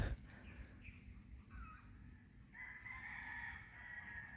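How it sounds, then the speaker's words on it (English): A rooster crows at a distance in a quiet neighborhood in the Philippines, a faint drawn-out call rising and holding against soft background ambience. "Now we're getting back in to a neighbor who's got a chicken or two."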